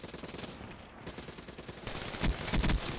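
Rapid bursts of gunfire in a Call of Duty-style hardpoint match, with automatic fire rattling throughout and louder, closer volleys toward the end, under a busy game mix.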